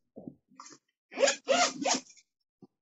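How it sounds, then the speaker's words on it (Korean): Zipper on a Bible cover pulled in several quick strokes, a short tug and then three longer rasping zips close by, with a faint tick at the end. "성경책 지퍼 소리가 아주 리얼하네요."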